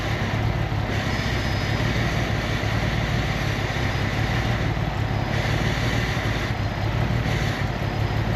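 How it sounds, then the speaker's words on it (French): An engine being adjusted idles steadily at close range, a constant low rumble with dense broadband noise and no clear change in speed. "on entend un ralenti"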